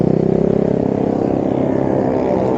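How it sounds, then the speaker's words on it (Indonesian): Steady droning hum from the motor of a Veteran Patton electric unicycle being ridden outdoors on a windy day, loud and continuous with a slight rise in pitch, no talking. "Motor berisik."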